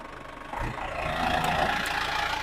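A 1997 Isuzu Panther Hi Sporty engine idling at a showroom, a steady close mechanical rumble that swells slightly after a brief start and holds on evenly.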